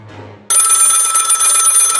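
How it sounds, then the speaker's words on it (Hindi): A telephone bell rings loudly and continuously in a horror story, starting abruptly after a quiet moment and holding a bright, steady trill to the end. "फिर अचानक फ़ोन की घंटी फिर से बजने लगी"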